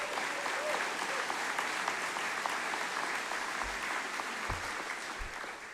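An audience at a North Dakota National Guard change of command ceremony claps steadily, a dense even patter of many hands that holds for several seconds and thins slightly toward the end, with a few low thumps.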